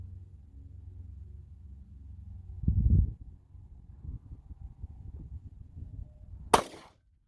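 A single sharp 9mm pistol shot from a Winchester Ranger T-series 147 grain load cracks out loud and close near the end, after low rumbling background and a brief thump.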